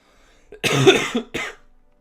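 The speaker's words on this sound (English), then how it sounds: "It's a nagging cough." A single close cough with a short follow-up hack, loud and dry, in an otherwise quiet room.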